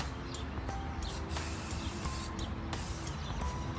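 Sprayway tire shine sprayed from an aerosol can onto a car tire, several short hissing bursts, close and moderately faint, with small handling clicks between them.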